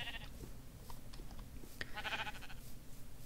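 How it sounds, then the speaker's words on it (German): Sheep in the video game Minecraft, a short faint bleat heard near the end over a low background hum, with no other sounds clearly standing out. "Hier haben wir ein paar Schafe"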